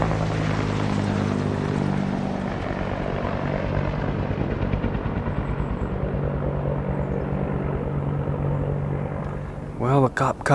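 A helicopter passes overhead above a cedar thicket during deer season, a loud, steady rotor thrum and engine roar that slowly fades, followed by a brief voice at the end.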